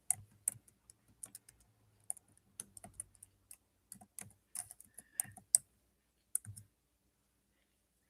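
Irregular bursts of clicking keystrokes on a computer keyboard, quick clusters of taps separated by short pauses, close and fairly quiet in an otherwise silent room.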